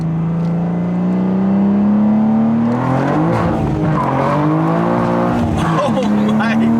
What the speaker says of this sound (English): first drive with the new single mid pipe setup from FI